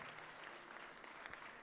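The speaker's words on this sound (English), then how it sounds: "Come on, clap your hands." Church congregation clapping their hands during a service, a faint, distant, steady spread of applause-like patter lasting under two seconds.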